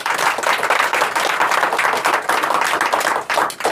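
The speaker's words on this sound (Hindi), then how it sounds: "ताली एक बार।" Enthusiastic audience clapping at a student talent award ceremony, dense and close with uneven rhythmic bursts from many hands, continuing steadily throughout.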